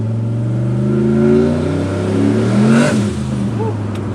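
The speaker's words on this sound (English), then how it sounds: "That's just from the blow-off or wastegate." A turbocharged 1000whp bagged street truck revs and settles, its engine drone rising and falling, with a brief sharp blow-off valve or wastegate whoosh near the end, close and loud, under light talk.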